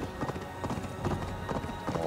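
Horse hooves clip-clop in a steady, quick trot across the ground in the video game Assassin's Creed Valhalla, close and moderately loud over a soft ambient bed.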